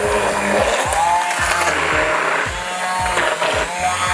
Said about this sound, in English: I'm going to have at it with the immersion blender and really smooth it out